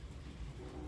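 Stock pigeons coo softly inside a loft with sand floors, a low, faint burbling murmur over a steady background hum, brief and without speech.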